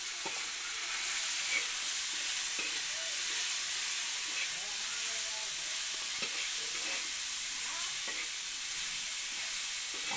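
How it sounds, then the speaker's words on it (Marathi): Spices sizzling in hot oil for a tempering for prawn chutney, a continuous hissing sizzle with steam, heard at moderate level while faint voices murmur in the background. "वा वा फोडणी"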